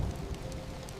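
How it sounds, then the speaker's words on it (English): Steady rain patters against windows on an evening, a soft continuous hiss with scattered drops tapping close by. "Rain is beginning to fall more steadily now, creating a gentle rhythm against the windows"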